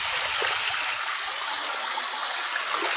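A river stream flows steadily nearby, a dense, continuous rush of water with faint gurgles and splashes and no voices.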